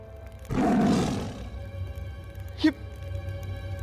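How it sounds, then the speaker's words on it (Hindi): A cartoon tiger gives one loud, close roar lasting about a second, followed moments later by a short sharp animated sound effect over a faint background music bed. "ये तो बाघ है।"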